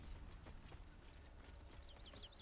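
Horse hooves clip-clop in a quick trotting rhythm in the video game Baldur's Gate III, with a few high chirps near the end.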